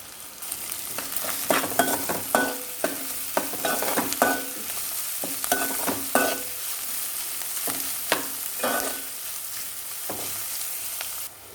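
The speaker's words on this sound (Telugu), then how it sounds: "పచ్చిమిర్చి కూడా వేసుకుని వేయించుకుందాము." Onions and green chilies fry in a pan for a bitter gourd stew, a steady sizzle broken by repeated scraping stirs, close and with no talk.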